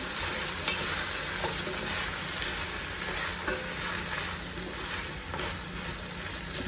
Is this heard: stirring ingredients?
yes